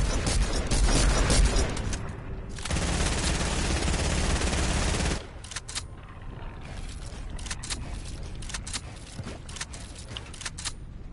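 Automatic gunfire in a shooting video game, with loud sustained bursts at first that drop to scattered, quieter shots and clicks toward the end.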